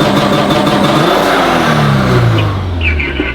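A turbocharged FR-S engine, long abandoned, is revved hard into launch control, roaring loud and close before the pitch sags as the revs drop and hold near a limiter.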